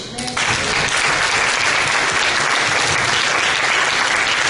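A church congregation bursts into loud, sustained applause, dense clapping that holds steady from start to finish.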